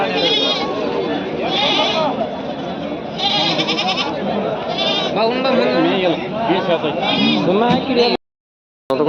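Many young goats bleat over and across each other in a crowded Athani goat market. The wavering cries continue close and loud throughout, with voices of people mixed in, until a sudden brief silence near the end.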